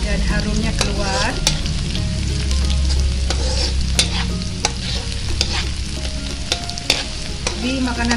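Onions sizzle and fry in a pan while being stirred for a Korean-style kimchi egg fried rice, with a steady loud crackle and repeated scraping clicks of the utensil throughout.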